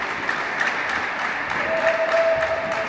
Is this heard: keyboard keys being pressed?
no